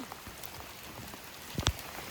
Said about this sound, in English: Look how big the raindrops are right now.